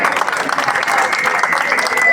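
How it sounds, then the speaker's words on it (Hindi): Loud, dense applause from a crowd at a large public rally in Kithana village, Kalayat, welcoming Anurag Dhanda, with steady clapping throughout and a murmur of voices mixed in. "जोरदार तालियों से स्वागत करें"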